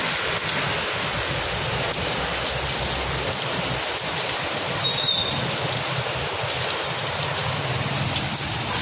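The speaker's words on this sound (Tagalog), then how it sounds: "Lakas po ng ulan." Heavy rain pouring steadily outdoors, a dense continuous hiss of falling water with no talk over it.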